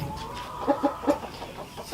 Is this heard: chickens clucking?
yes